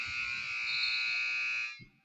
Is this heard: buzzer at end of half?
yes